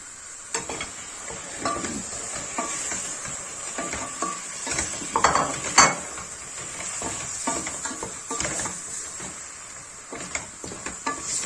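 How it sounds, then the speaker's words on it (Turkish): Meat goes into a hot pan for barbunya stew, where it sizzles continuously while a utensil stirs and scrapes with irregular clinks, close and fairly loud. "Şimdi etimi ekleyeceğim."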